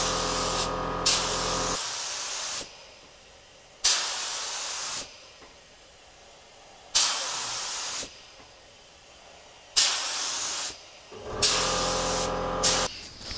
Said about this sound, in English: spray a white stripe down here and see how well that white covers